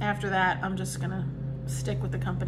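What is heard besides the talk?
No everyday noises stand out.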